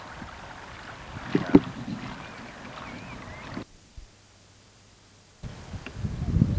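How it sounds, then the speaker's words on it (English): Wind buffeting a microphone outdoors beside a carp fishing lake car park, a rumbling low roar with gusts that drops out briefly to near silence midway before resuming. "As you can see from the camera shake, it's fairly windy."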